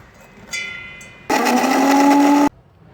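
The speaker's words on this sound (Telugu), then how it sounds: "కొబ్బరి కూడా మిక్సీ వేసేసుకుందాం" An electric mixer grinder grinds coconut in a single loud, steady high whir lasting about a second, preceded by a softer mechanical hum and light clatter.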